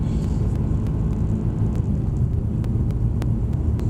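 Mercedes-AMG C63S launching at full power on the Mercedes-Benz World race track: a heavy, continuous low engine roar heard from inside, with steady rumble and a few sharp clicks, no talk.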